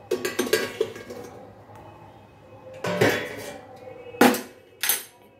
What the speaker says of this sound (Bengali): এবার আমি ঢাকনাটা খুলে নেব